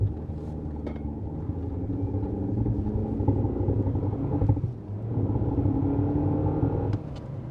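A Honda CR-V Hybrid accelerates at full throttle in snow mode, a steady low engine rumble and drone heard from inside the cabin that dips briefly midway before resuming.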